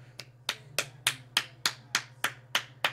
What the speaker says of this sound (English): He's clapping for G2.